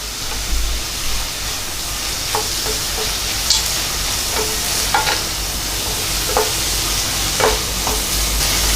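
Mutton pieces sauté in a hot pan for mutton varuval, giving a continuous loud sizzle and hiss, with periodic scrapes and clinks from stirring.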